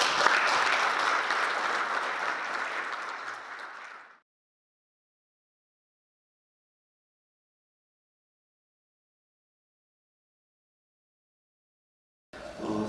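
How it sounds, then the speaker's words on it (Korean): A lecture audience claps to welcome a speaker at a talk on the Korean economy, a full, even round of applause lasting about four seconds before cutting to silence. "큰 박수로 환영해 주시면 감사합니다."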